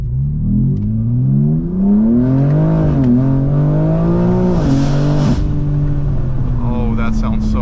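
A powerful BMW M4 G82 engine with catless downpipes and air intakes revs and accelerates loudly, its pitch climbing through gear changes, close and continuous throughout.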